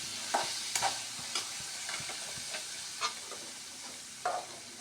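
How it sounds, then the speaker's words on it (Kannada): Paneer pieces fry and sizzle in a pan with a steady hiss, and a spoon scrapes and stirs now and then in soft repeated clinks, close and fairly quiet. "ಪನ್ನೀರನ್ನು ಸ್ವಲ್ಪ ಫ್ರೈ ಮಾಡ್ಕೋಬೇಕು"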